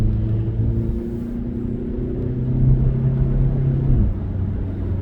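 A 2017 Skoda Yeti 2.0 TDI with 150 horsepower accelerating on a dual carriageway, heard from inside as a low diesel engine rumble with rising tone and a gear change near the end, steady and close.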